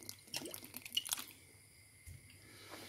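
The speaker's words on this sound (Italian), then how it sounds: "Aggiungiamo un po' di salsa di soia." Soy sauce poured into a pot of boiling turnip soup: faint, soft drips and squishy liquid splashes clustered in the first second, then quieter simmering.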